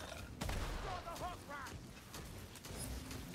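Pistol shots fired in a video game against rat enemies, a few sharp cracks at irregular intervals over a busy low game background, with game voices chirping in between.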